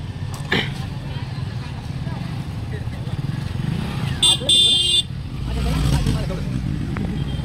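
Heavy road traffic near the Mhasa fair in Murbad around midnight, a steady engine rumble with passing motorcycles and cars, a brief horn blast in the middle and voices talking throughout.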